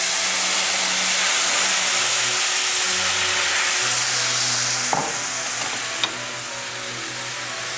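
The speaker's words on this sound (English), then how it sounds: "we're going to deglaze our pan with some white wine" White wine hits a hot frying pan with crusty browned bits from chicken piccata, giving a loud, steady broadband sizzle and hiss that slowly eases, with a couple of sharp clicks of a utensil scraping the pan.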